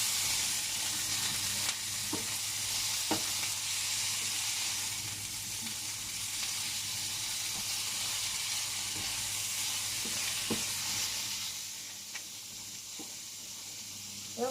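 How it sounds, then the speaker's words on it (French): Cauliflower florets cooking in a pot for a cauliflower gratin, a constant hiss of bubbling water with a few faint clicks, steady and fairly quiet, fading slightly near the end. "Il y a les choux-fleurs qui bouent."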